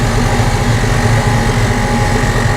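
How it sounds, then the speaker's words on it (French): An air suspension compressor runs with the engine going as it makes ride-height adjustments, a loud continuous mechanical hum and whir with a steady low drone and no pauses. "Là, on entend le compresseur"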